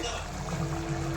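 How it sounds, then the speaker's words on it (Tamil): A steady bubbling, gurgling simmer of mushroom pepper stir-fry in a covered pot, continuous and close, with a low hum underneath. "நல்லா கொதிக்குது"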